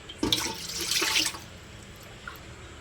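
Water pours briefly from a tap into a cooking pot, splashing for about a second before stopping, nearby with a quiet background hum.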